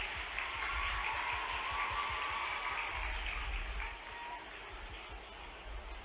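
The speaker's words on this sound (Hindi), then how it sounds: "आप लोगों से अनुरोध है कि एक बार ज़ोरदार तालियों से मामा जी का स्वागत करें" An audience claps steadily to welcome the Chief Minister of Madhya Pradesh at a Ladli Laxmi festival event, a dense, sustained applause that eases slightly toward the end.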